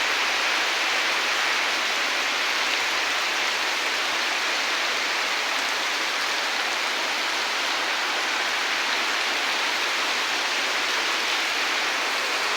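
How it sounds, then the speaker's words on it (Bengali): Heavy monsoon rain pours down steadily onto a flooded village courtyard, a constant, even hiss with no pauses and no voices. "এই বৃষ্টির মধ্যে কাদা, বৃষ্টি"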